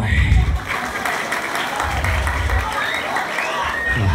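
A crowd applauds during a Balinese Calonarang comedy performance at Pura Dalem Wanasara, a dense, sustained wash of clapping with low rumbling noise and some voices mixed in.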